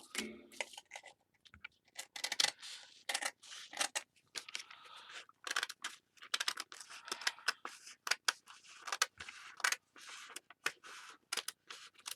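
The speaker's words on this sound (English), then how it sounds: "For being new scissors, they don't cut really well." New scissors that cut poorly snip fabric repeatedly in quick, irregular bursts of sharp close clicks and slices, with brief pauses between cuts.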